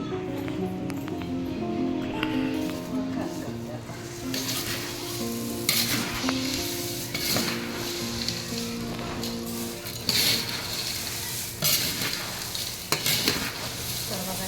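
Masala is stirred into chivda in a hot pan for Diwali snacks. A continuous dry rustling and scraping carries on throughout, close and steady, with occasional sharper scrapes of the spoon against the pan.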